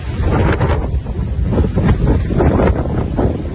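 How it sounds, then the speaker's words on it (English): Strong outdoor wind buffets the microphone, giving loud, rumbling gusts that swell and ebb without a break; no voices are heard. "Wind is pushing me back. So windy."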